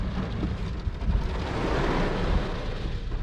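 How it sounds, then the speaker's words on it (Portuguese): Heavy rain pours down outdoors in the United States with a dense, constant roar and deep rumbling that suggests thunder. The noise is loud and continuous throughout, with no speech. "Mas, nossa, tá bem forte a chuva, velho."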